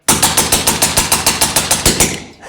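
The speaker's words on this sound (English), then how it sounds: "Now we've got our little cowbell down there, and I'm gonna just empty the mag on it." Western Mordax Viper fired full-auto, emptying a magazine at a cowbell target downrange, a loud, fast, evenly spaced string of about fourteen shots ending abruptly, with no voices.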